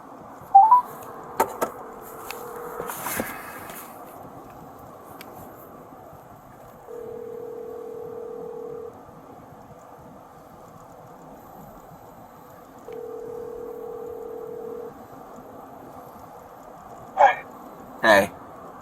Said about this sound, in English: and I called LT